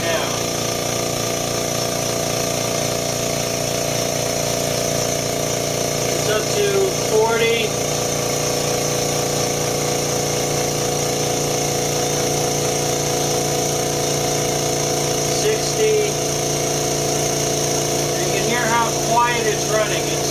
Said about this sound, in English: It's definitely one of the quietest home compressors I've heard.